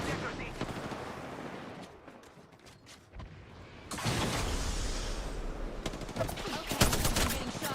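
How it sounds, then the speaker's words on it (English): Rapid bursts of gunfire from a shooter video game, crackling and dense, first quieter and then louder from about four seconds on, with someone talking over the shooting. "Okay, I'm getting shot at."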